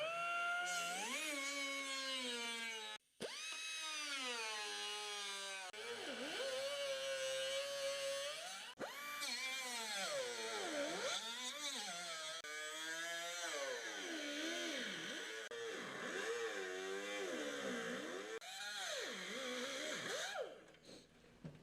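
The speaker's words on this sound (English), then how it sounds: "Let me get the whiz wheel out and cut this" Whiz wheel cutoff tool cutting metal while fabricating an intake manifold and air filter piping for a Sport quattro replica, a high buzzing whine that repeatedly rises and dips in pitch as the wheel loads and frees, with one brief pause.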